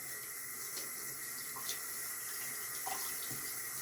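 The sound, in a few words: hot tap water running to wet a towel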